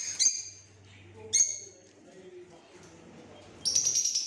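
Lovebirds give sharp high chirps in short bursts at a shop in Al Wakra, Qatar, with a few calls near the start and middle and a brighter flurry at the end, while people talk quietly in between.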